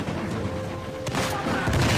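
Gunfire and explosions from the Uncharted 4: A Thief's End video game, with a sniper and an enemy lobbing explosives, form a dense, continuous roar of shots and blasts that swells toward the end.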